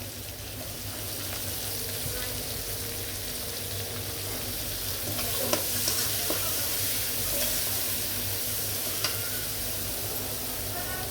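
Onion paste frying and being stirred in a pan for a creamy rohu fish curry: a continuous sizzle with scraping stir strokes and a few louder spatters midway, fairly close.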